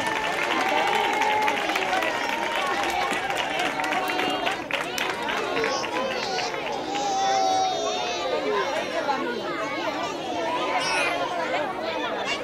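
Audience at a school end-of-year show in Almonte claps and cheers for the little children of class 12, with crowd chatter and voices over the applause, continuous and fairly loud throughout.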